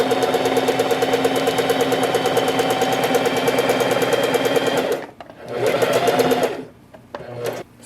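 A Singer Heavy Duty 4432 sewing machine stitches fabric in a loud, fast, continuous run, then stops and gives two shorter bursts with small pauses between them.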